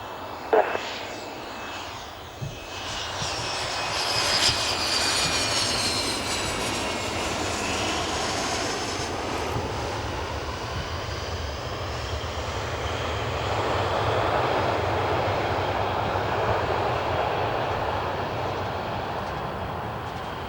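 A small private jet, such as an Embraer Legacy 450, Cessna 525B Citation or Hawker 90, taxis on an airport apron with a steady, loud turbine whine and roar that swells midway and holds on alone.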